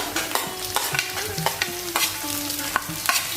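Onion sizzles in a hot pan for a crispy soya chilli dish while a spatula stirs it with quick repeated scrapes, close and loud over constant frying.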